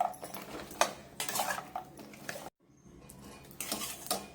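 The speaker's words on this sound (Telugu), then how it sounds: "ఇదిగోండి ఫ్రై చేసుకున్న గవ్వలను వేసుకుని ఇలా కలుపుకోవడమే." A spoon scrapes and clinks against a pan as fried gavvalu are mixed in, for a jaggery gavvalu sweet. The strokes come in irregular bursts with a short silent gap in the middle.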